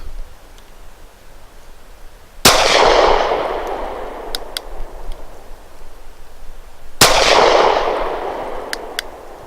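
Two loud, sharp pistol shots from a KelTec PF-9 firing Browning BPT 147-grain subsonic ammunition at an outdoor target, several seconds apart, each followed by a lingering echoing decay.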